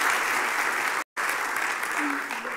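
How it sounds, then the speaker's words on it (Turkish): Audience applause at a social impact summit in Turkey, a steady dense wash of clapping that breaks off briefly near the middle and then resumes, with some speech faintly underneath. "onun liderliğinde fazladan bir alkış aslında şey olmaz, göz çıkarmaz diye düşünüyorum Münteha Hanım'a"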